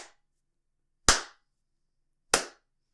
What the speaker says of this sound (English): Maybe if I clap now, I can sync it.